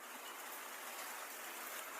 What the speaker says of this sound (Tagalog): Medyo malakas na yung ulan.